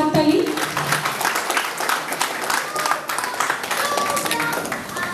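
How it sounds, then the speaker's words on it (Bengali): A ceremony audience at the 2016 Joy Bangla Award event in Montreal applauds, a dense, steady wash of many hands clapping that holds for several seconds, with voices faintly mixed in. "সবাই আবারও একটি জোরে একটি হাততালি।"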